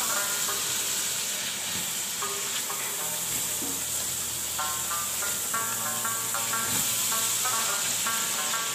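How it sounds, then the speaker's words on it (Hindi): Spice paste of ground green chillies, ginger and garlic fries with beef in oil for haleem, giving a steady loud sizzle throughout with scattered stirring scrapes and clinks, no talk. "ज़रा सा मसाले को हम तेल में फ्राई करेंगे गोश्त के साथ"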